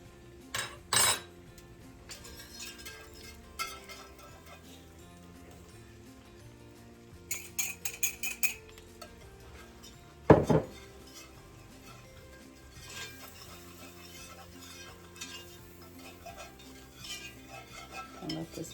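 Butter and about four tablespoons of flour stirred into a roux in a pot, with soft scraping and occasional clinks of a utensil against the pot, sparse and close over quiet background.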